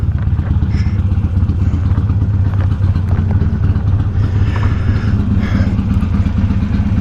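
A motorcycle engine runs loudly and steadily at low idle at close range while the bike is backed into place, with faint clatter above the constant rumble and no voices.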